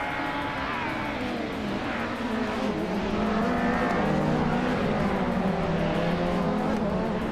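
Racing game engines drone and whine continuously, including a 1993 Peugeot 405 among the pack, with layered revving pitches rising and holding near and loud, free of speech.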